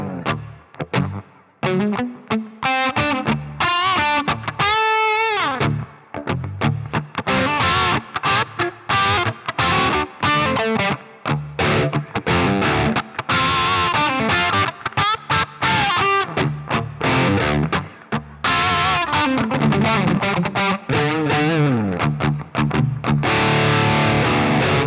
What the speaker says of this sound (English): It's really natural sounding reverb.